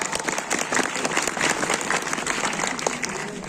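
A crowd claps loudly and continuously at a Republic Day celebration at a government higher secondary school in Udhampur, dense sustained applause with faint voices mixed in.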